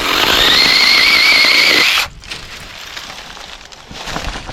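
Parkside powered branch saw from Lidl cutting tree branches: a loud, high whining motor for about two seconds, then it cuts off abruptly, leaving quieter rustling as branches fall.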